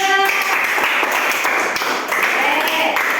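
Applause for a student group at a university teacher-training event in Bukittinggi, a dense steady wash of clapping that fills the room throughout, with a brief tonal sound at the start.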